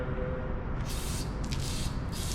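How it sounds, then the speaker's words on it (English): A steady pressurized aerosol hiss from a can of brake cleaner, sprayed in short bursts close by into the holes of a BMW N54 engine's Vanos solenoid area. "get your brake cleaner, and you're just going to spray in all these holes"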